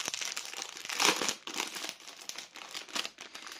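A plastic pouch of die-cut paper labels and cardstock word tags being opened from the back, crackling and crinkling in close, uneven bursts that peak briefly before settling into lighter rustles.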